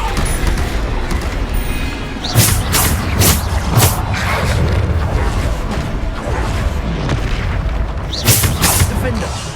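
Repeated loud booming spell blasts from the Bombarda spell in the Hogwarts Legacy video game, several heavy bursts landing at intervals over dense continuous game noise, with a voice talking over the action.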